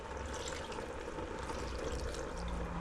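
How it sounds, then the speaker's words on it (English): Water poured into a still-steaming bowl during home cooking of an African meal, a steady broadband rush of liquid running continuously and fairly quietly throughout, with no voices. "Let's put in some water"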